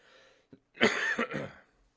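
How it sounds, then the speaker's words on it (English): A person coughs twice in quick succession, with a short throat-clearing catch before, close and fairly loud, then quiet. "This cough is lingering."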